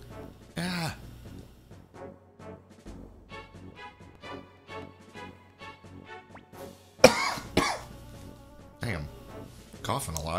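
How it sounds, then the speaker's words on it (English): A person coughs in several hoarse bursts, loud and close, spread through the clip with a strong fit near the end. Game sounds and talking run underneath. "Coughing a lot."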